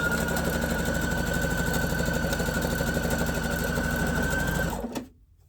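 A sewing machine stitches a scrappy Corn & Peas quilt block at a fast, steady, close-up whirring rhythm, then stops abruptly near the end, leaving quiet.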